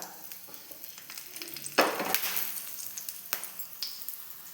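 A snack shallow-frying in a pan with very little oil gives a steady, gentle sizzle, with a louder crackling burst as it settles or is turned, and light scraping around it.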